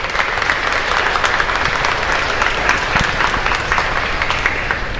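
Loud, steady applause from the congregation at a live Mass in the Kurusu Ñiuati chapel in Luque, a dense wash of clapping hands that holds evenly for about five seconds with no one speaking.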